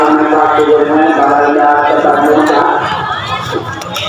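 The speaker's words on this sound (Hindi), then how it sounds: "काफ़ी भीड़ गाइस" A large, dense crowd chatters continuously at the Gauranga temple in Barakar during a kirtan gathering, a loud, close wash of overlapping voices that thins slightly toward the end.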